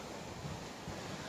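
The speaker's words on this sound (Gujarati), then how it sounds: "ધબધબાટી મોજા આવે છે." Rough monsoon sea waves crash onto an empty beach, heard as a steady, loud rumbling wash with deep thuds rising within it, and no voices.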